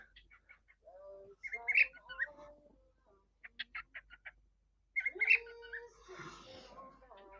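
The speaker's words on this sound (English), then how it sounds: "Does anyone hear the birds?" Birds chirp and whistle in short bursts and trills, fairly close and clear against a quiet background, with several separate calls over a few seconds.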